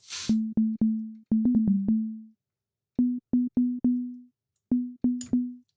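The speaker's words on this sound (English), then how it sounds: "Yeah, no, I prefer just a clean sine wave." Pure, clean sine-wave synth tone at a single steady pitch, played as short repeated notes in uneven groups, each with a clicky attack and quick fade.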